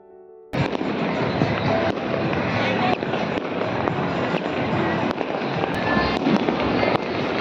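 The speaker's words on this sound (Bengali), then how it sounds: "চারিদিকে বাজি ফাটতে আরম্ভ হয়ে গেছে।" Fireworks bursting at dusk during the Uttarayan kite festival in Ahmedabad: a dense, continuous crackle and rumble of many firecrackers from all around, starting abruptly after a quiet moment and staying loud throughout.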